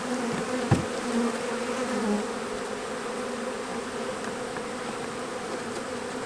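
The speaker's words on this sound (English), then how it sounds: "Look at all those bees" Honey bees hum steadily inside an opened hive box during a winter inspection, a dense continuous drone close by, with a brief knock early on and no talking.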